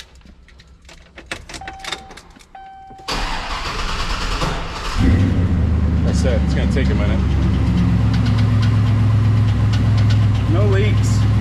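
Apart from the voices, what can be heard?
Chevrolet Silverado SS engine cranking and starting up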